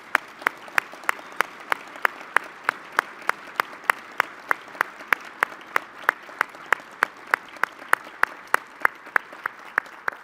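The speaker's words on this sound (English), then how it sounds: "give a round of applause to Vice Admiral Sharp" A keynote audience at a defense intelligence conference claps for Vice Admiral Sharp, steady individual claps ringing out at an even, regular pace for about ten seconds with no talking.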